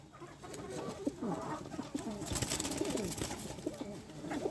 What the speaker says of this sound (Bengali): এই কবুতরটা হচ্ছে একটা বিউটি হোমা কবুতর